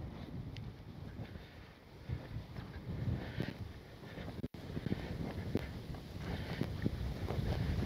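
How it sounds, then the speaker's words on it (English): Gusty wind buffeting the microphone at an RC airfield with roughly 15 mph wind down the runway, a low rumbling roar rising and falling steadily with one brief dropout midway. "I got about a 15 mile an hour wind coming right down the runway"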